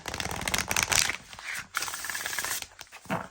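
Steady papery riffling and clattering of an oracle card deck shuffled up close, continuous with brief breaks, no talking.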